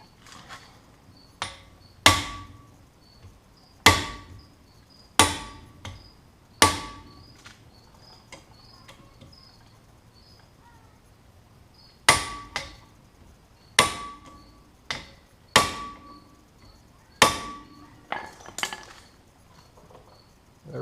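Sharp metallic ratchet-like clicks and knocks come in clustered bursts while bolts are tightened during a 2005 Honda Accord front EBC brake rotor and pad install, close and crisp with quiet gaps between groups.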